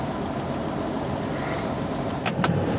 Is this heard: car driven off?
yes